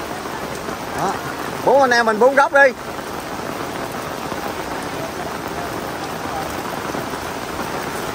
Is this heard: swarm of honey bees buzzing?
no